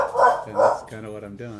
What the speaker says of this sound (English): That's my dog. He's barking at my.